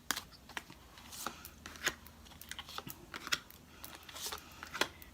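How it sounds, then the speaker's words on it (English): Tarot cards are shuffled in a quiet room, making soft rapid riffling and snapping clicks in an irregular stream, faint and close. "you're seeing me shuffle them, 3 cards for Aries"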